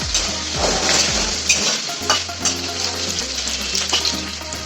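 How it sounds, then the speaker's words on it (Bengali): Potatoes fry in hot oil with turmeric and salt, a loud steady sizzle with occasional stirring clinks of a utensil against the pan, no voices. "এবার আমি হলুদ, স্বাদ মতো নুন দিয়ে একটু ভালো করে আলুটাকে ভেজে নিতে হবে"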